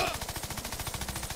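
An Uzi in Worms Revolution fires a fast, even stream of about twenty close, rattling shots in under two seconds, with no talking.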